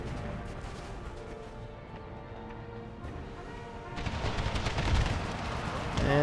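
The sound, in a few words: Napoleon cannon firing in Empire: Total War mod video game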